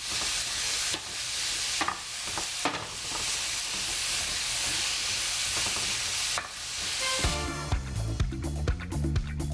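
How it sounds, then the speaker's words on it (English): Cut-up zucchini fries in olive oil in a skillet over medium-high heat, throwing off a loud, close, steady sizzle with bursts of hiss as pieces are stirred and flipped. A clattering, ringing scrape comes near the end, and no one speaks. "Heat 2 tablespoons of olive oil over medium-high heat. The first thing you add to the skillet is a cut-up zucchini."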